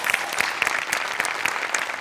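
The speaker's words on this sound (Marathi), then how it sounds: "टाळ्या वाजल्या पाहिजे" Studio audience at a Marathi comedy show breaks into lively applause, brisk overlapping claps at steady loudness with a few sharper individual hits standing out.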